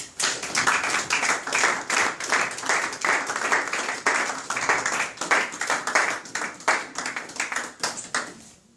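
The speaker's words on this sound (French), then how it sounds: "On acclame pour l'Éternel." A church congregation at a Sunday service claps in a steady, rhythmic beat throughout, with loud applause close by and voices faintly mixed in.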